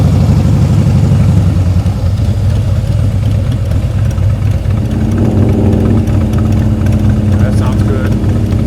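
Motorcycle engine running steadily close by with the throttle opened a little for more power, a low continuous drone that shifts pitch slightly midway, under loud wind buffeting and a voice talking.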